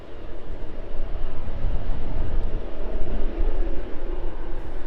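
A Boeing 777F freighter at East Midlands Airport turns off the runway onto the taxiway, its engines a steady, broad jet roar held at a moderate distance for the whole stretch, with no voices.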